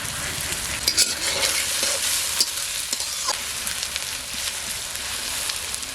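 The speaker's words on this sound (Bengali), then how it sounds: "পেঁয়াজটা লাল লাল করে ভাজা হয়ে গেছে" Chopped onions fry in a pan for a duck curry, a dense, fairly loud sizzle broken by repeated spatula scrapes and stirring knocks against the pan.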